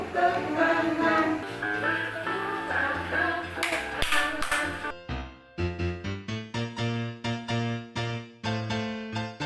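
Children clap their hands along to a lively Sunday school church song with music, the claps landing in a steady beat over the singing and accompaniment.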